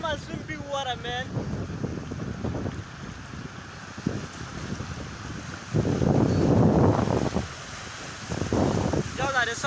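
Breeze on a Dakar beach buffets the microphone in gusty bursts, swelling loudest in the second half, with voices talking over the rumbling wind noise.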